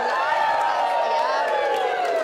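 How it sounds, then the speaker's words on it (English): A television studio audience cheers and claps for presenter Craig Doyle during a live competition segment, a steady, dense crowd roar sustained throughout without a break. "I think it was Craig got the cheer and not the competition that time."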